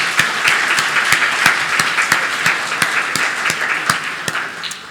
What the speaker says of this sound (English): both teams deserve a fantastic round of applause for their efforts